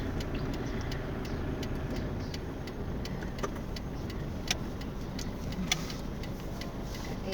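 A manual pickup truck driving, a steady engine and road rumble from inside the cab with faint ticking clicks scattered over it, no talk.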